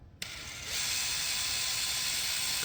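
A ratchet wrench whirs in a steady, close mechanical buzz on a 10 millimeter bolt during a Ford Bronco lift install, starting abruptly and holding loud and continuous to the end.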